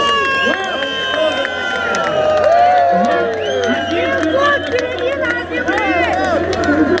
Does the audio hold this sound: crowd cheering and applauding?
yes